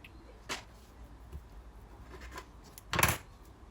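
Brioche dough is cut in half with a quick snip, a brief crisp cut standing out near the end of an otherwise quiet stretch, with a couple of faint taps earlier.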